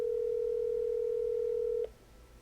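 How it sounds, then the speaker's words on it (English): A steady telephone dial tone holds for about two seconds while a call is being placed, then cuts off abruptly, leaving a quiet line. "let me make this phone call real quick."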